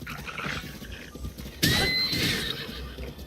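A horse in the video game The Legend of Zelda: Breath of the Wild lets out a sudden loud whinny after a soft stretch of hoof clip-clops, its neigh ringing clearly up close.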